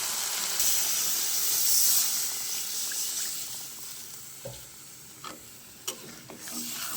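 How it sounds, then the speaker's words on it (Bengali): Water is poured into a pan of chhena curry, setting off a loud hiss of steam that gradually settles into a quieter simmering bubble with a few scattered clinks near the end. "এই পর্যায়ে আমি ঝোলের জন্য জল দিয়ে দেবো"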